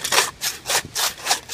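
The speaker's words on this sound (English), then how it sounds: "I'm just gonna use my leg as an anchor, and I'm gonna start sawing" A Zippo bow saw cuts through wet wood in steady back-and-forth strokes, about five rasping passes in quick, even rhythm, close and clear with no talk.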